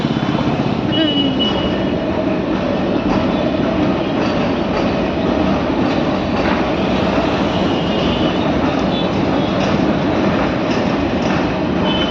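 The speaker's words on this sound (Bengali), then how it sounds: "ওই দেখো মেট্রো যাচ্ছে ওপরে" A Kolkata metro train rumbles past overhead in a loud, continuous roar with a faint rhythmic clatter, lasting the whole stretch, with voices barely audible underneath.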